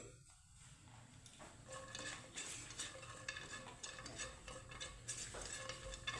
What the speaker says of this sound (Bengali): কিছুটা ড্রাই ফ্রুটস নিয়েছি, হালকা একটু ভেজে নেব এই ড্রাই ফ্রুটসগুলো